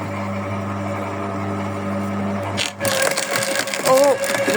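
A garden shredder runs at a steady low drone, then shifts into a louder, rougher grinding as material feeds through, with a voice speaking over the later part.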